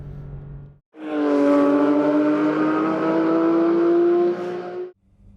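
A Porsche 911 GT3 RS, a 518bhp track car, runs on a wet track. Its engine swells in a loud, sustained high-revving howl for about four seconds, rising in pitch as it accelerates, before dropping off abruptly.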